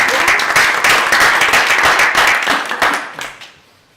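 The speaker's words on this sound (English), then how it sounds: "One applause." Loud, close audience applause at the Alfresco DevCon 2018 developer conference, a dense burst of many hands clapping that holds strong for about three seconds, then quickly tapers off into silence.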